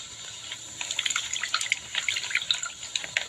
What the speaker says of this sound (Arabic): كده هنضيف المية على الدقيق وهنبدأ نعجن شوية بشوية